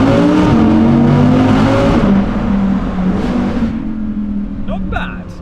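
A 2020 Audi R8 Spyder RWD accelerating through a road tunnel, a loud, close engine roar climbing in pitch through the gears before easing off and fading, with echo from the tunnel walls.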